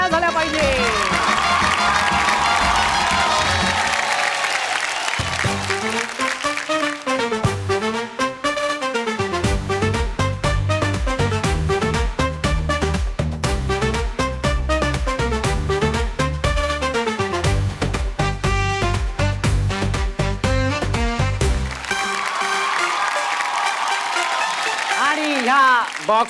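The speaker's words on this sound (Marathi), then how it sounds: "एकदा जोरदार टाळ्या झाल्या पाहिजे." A studio audience on a Marathi television game show claps and cheers loudly, mixed with blaring show music that takes over in the middle. Bursts of applause are clearest at the start and end, with voices mixed in.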